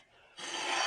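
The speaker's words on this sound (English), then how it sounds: "Get an alignment bar on here and kind of twist this stuff around, break the rust loose from the brake shoes." An alignment bar twists a rusted brake drum on an M151 military jeep, grinding and rasping loudly as the rust breaks loose, close and continuous after a quiet start.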